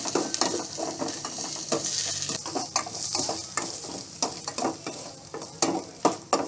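Garlic sizzles and fries in a pan for a home-style sauté, a steady crackling hiss broken by repeated scraping stirs and light clinks of a utensil against the pan, close and fairly loud.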